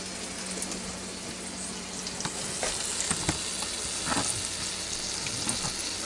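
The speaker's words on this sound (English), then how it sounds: "here it's sizzling away" Food sizzles and crackles steadily inside a Ninja Foodi Deluxe pressure cooker pot after cooking a cheeseburger roll, a close, moderately quiet hiss with scattered pops and no talking.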